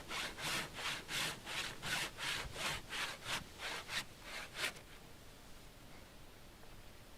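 A hand saw resaws a wooden electric guitar top board in about ten steady, rhythmic strokes, close and fairly loud, then stops and leaves only quiet room noise.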